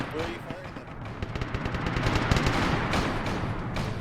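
Rapid bursts of automatic gunfire in a military video game, with dense crackling shots running continuously through the moment.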